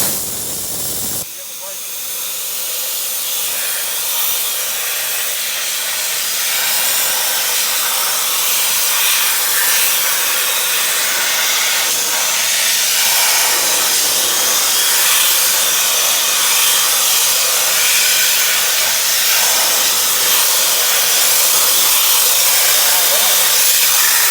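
A Snap-on blow gun blasts compressed air to strip grease from a part in a workshop, a loud continuous hiss that starts abruptly and holds steady for over twenty seconds, close by.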